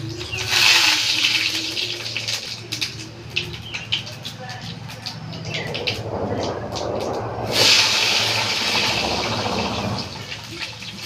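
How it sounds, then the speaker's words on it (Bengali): Panch phoron and whole chilies hit hot cooking oil with a bright, crackling sizzle, rising in two loud hissing bursts over a steady low kitchen hum. "এবার আমি তেল দিয়ে দিচ্ছি গরম হয়ে গেছে আমি পাঁচ ফোড়ন আর পুরো লঙ্কাটা দিয়ে"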